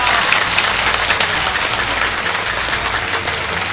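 An audience claps for a cleric, steady dense applause filling the whole clip at close range with no voices on top.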